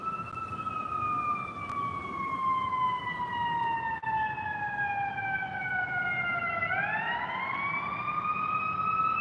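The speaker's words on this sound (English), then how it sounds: "I don't know if you can hear the ambulance in the back," An ambulance siren wails in the distance, a steady tone that slowly falls in pitch before sweeping back up near the end, sounding alone without talk.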